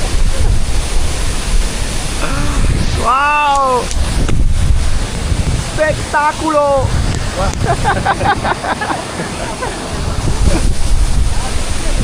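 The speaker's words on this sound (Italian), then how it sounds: "30 metri di cascata" A 30-metre waterfall pours down in a continuous heavy roar of falling water, loud and close, while people exclaim excitedly over it.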